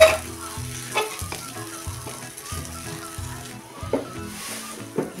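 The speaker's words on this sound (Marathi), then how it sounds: "तेलात चांगली परतून घेते" Onion-garlic chutney frying in oil in a pan for a spicy cluster bean (gavar) dish, with a steady sizzle broken by repeated scraping and stirring strokes, close and fairly loud, no talking.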